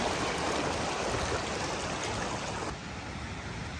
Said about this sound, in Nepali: यो खोला चाहिँ माथिबाट पहाडबाट आएको सानो खोला हो।